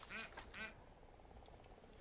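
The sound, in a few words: duck quacking in video game Far Cry 5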